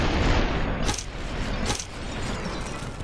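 Gunfire in the video game SuperHot: two sharp, loud shots about a second apart over a dense, rumbling game backdrop.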